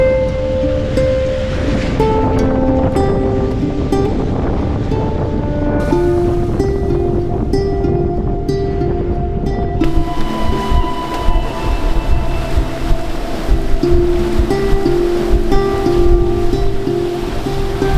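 The sailboat Avocet heads toward Ventura in a strong Santa Ana wind of about 17 knots. A loud, constant rush of wind and water surges steadily, with whistling tones drifting over it and no voices.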